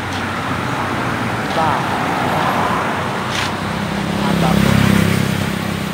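Road traffic in a rural barrio on the way to Lopez, a steady wash of car and engine noise with a vehicle rumbling closer near the end, while people talk over it.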